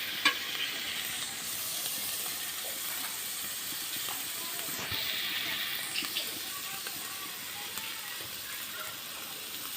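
Hilsa fish pieces go into a pan of cooked-down mustard paste with mustard oil, producing a continuous close sizzle and hiss of frying with occasional stirring scrapes.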